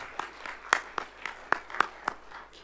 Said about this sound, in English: I'll ask you to join me to make a round of applause of all these